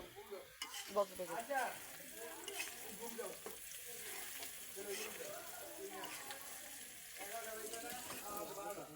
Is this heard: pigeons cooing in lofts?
no